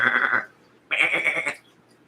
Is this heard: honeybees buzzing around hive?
no